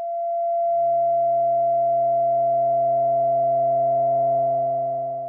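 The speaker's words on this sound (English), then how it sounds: "as I start to turn up the input signal, you'll hear it start to waver and then jump to a harmonic of that input signal" Doepfer A-106-6 XP filter with high resonance sings a loud, pure sustained tone that swells in, holds steady and grows harmonic overtones as it wavers, alone without any voice.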